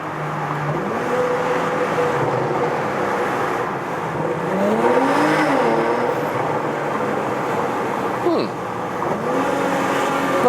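A Porsche Macan GTS, a 2022 facelift with 440 horsepower, accelerates through a tunnel with its windows lowered. The engine note rises and falls as it revs, loud and close, echoing off the tunnel walls, with a brief voice near the end.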